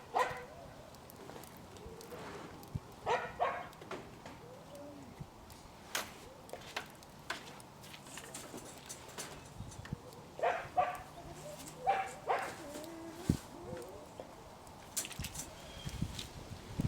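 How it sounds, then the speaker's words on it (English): A dog barks repeatedly in short, irregular bursts, some close and sharp, with occasional yips between, over a quiet background. "Still getting barked at."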